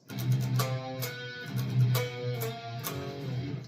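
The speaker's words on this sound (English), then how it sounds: "So those are just some straight up octave chords." Electric guitar strums a short sequence of octave chords in a song, each struck firmly in a steady rhythm, with no talking.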